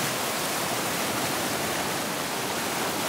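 Water pours from an overflowing old reservoir spillway into a creek, a steady, loud, broadband rush of flowing water with no break or voices.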